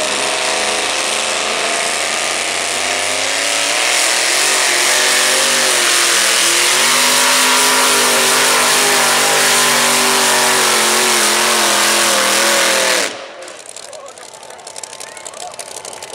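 A monster truck engine roars loudly and steadily for about thirteen seconds at a monster truck show, its pitch climbing and wavering as it revs, then cuts off abruptly into quieter background noise.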